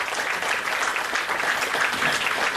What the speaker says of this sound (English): So please give him a round of applause for thinking at least ahead in this direction.